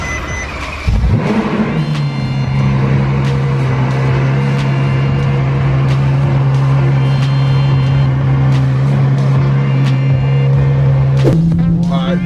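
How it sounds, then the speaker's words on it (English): A Ferrari F12 supercar makes a cold start: after about a second the engine fires with a sharp bark and rises to a loud, steady high idle drone, then steps up slightly near the end. "let's get the cold start. I know you guys want to hear the cold start."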